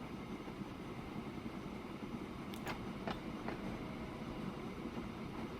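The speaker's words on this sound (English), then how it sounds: "hopefully this train will now stop at Leigh Central" A train runs in the railway game Transport Fever 2, a steady rumbling roll with a few brief squeals and clicks from the wheels, heard alone with no talk.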